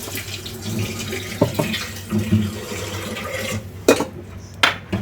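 Warm water poured from a measuring cup into a bowl for brioche dough, a soft trickling run with a few louder splashes and clinks against the container, heard up close.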